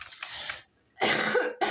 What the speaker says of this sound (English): My apologies for coughing in your ear.